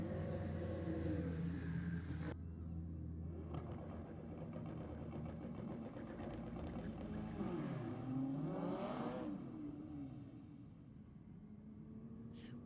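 An all-wheel drive car carrying a passenger accelerates in a night drag race, its engine droning fairly faint and distant with rising pitch sweeps as it revs through the gears, and no talking.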